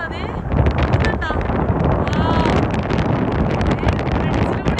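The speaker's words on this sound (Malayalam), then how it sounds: "ഭയങ്കര കാറ്റ് വീശിക്കൊണ്ടിരിക്കുകയാണ്" Strong wind blows near a bridge in a traditional village, a loud continuous roar and buffeting rush that fills the scene without pause, with faint voice traces under it.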